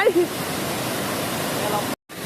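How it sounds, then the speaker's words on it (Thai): A waterfall in Laos roars in a steady, broad rush of water close by, with a brief voice at the start and a short cut near the end. "ก็อันนี้จะเป็น ภาพบรรยากาศน้ำตกที่นี่นะ"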